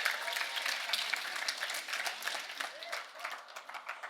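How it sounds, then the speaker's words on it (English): Audience at a young adult forum applauding as a speaker walks out on stage, a dense wash of clapping that thins slightly toward the end. "Let's give him a round of applause as he comes out."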